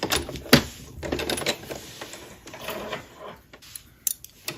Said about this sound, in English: So I'll just do a back stitch